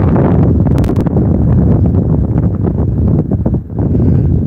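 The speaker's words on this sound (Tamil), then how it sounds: "இப்போ ரொம்ப காற்றடிக்குது" Strong wind roars steadily across the microphone, a loud continuous rumble with gusting buffets throughout and no one speaking.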